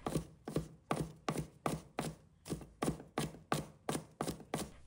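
Quick, regular knife strokes on a cutting board as scallion whites are chopped fine: over a dozen crisp, close taps in a steady rhythm, no voices.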